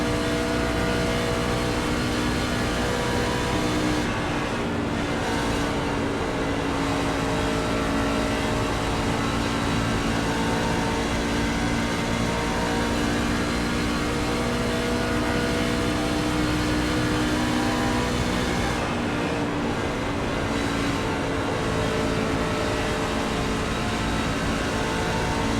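Onboard engine of a race truck at Charlotte in the iRacing simulator, a loud continuous roar with steady revving and slight pitch changes, droning throughout with no talk.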